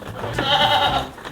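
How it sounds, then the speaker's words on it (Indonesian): A 3.5-year-old Saanen dairy goat buck at a goat breeding farm gives a single drawn-out bleat, close and fairly loud, with no talk over it. "Nah, ini adalah kambing jenis Sanen yang kita punya."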